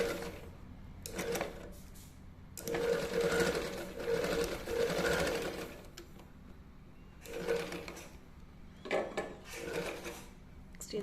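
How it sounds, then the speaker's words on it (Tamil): A sewing machine runs a straight stitch along a folded kerchief in short bursts of quiet whirring, separated by pauses with faint fabric handling. "அப்படியே ஸ்ட்ரைட்டாக ஸ்டிச் பண்ணிடுங்க"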